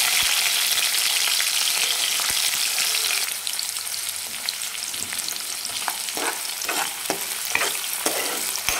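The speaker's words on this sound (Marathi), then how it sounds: "त्यानंतर आपण लगेच उभा कांदा टाकणार आहे चिरलेला" Sliced onion hitting hot oil with garlic in a pan, a loud steady sizzle that shifts midway into crackling frying with scattered stirring clicks and scrapes, no talking.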